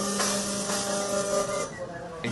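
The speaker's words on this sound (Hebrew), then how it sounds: "ובואו נעבור למדפסת השנייה, שזה השקה העולמית שלנו, שמדפיסה דג." A semi-industrial food printer printing a ready-to-cook fish fillet gives off a steady mechanical whir with hissing, near and constant, fading slightly toward the end.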